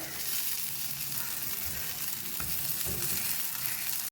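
Steady, loud sizzling of eggplant slices frying in oil on a flat iron tawa, a continuous close hiss with faint scraping underneath and no talking.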